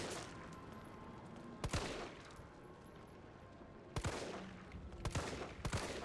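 Gunfire in the Resident Evil 3 Remake game: sharp shots ring out at about 1.7, 4, 5.1 and 5.7 seconds, some in quick pairs, over a steady background of game ambience, with no talking.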